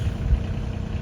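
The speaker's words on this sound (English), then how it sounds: "hauling stuff away on the tractor" Tractor engine running in a garden while hauling stuff away, a low, close, steady idling rumble with slight throbbing, loud and alone without voices.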